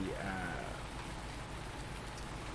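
Steady rain falling in the video game Farming Simulator 19, an even, dense hiss of drops on surfaces filling the scene, with a brief faint tonal whistle at the start.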